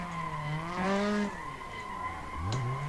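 Tyres squeal in a long, loud drift from a KE70 Corolla with a turbocharged 20-valve 4AG engine in the Assetto Corsa sim racing game, with the engine droning throughout as the squeal bends and swells.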